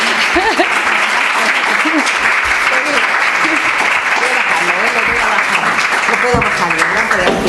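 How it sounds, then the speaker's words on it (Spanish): Sustained welcome applause from an audience at a talk, steady and loud throughout with dense clapping, some voices talking underneath. "os quería pedir como un aplauso de bienvenida porque realmente se lo merece"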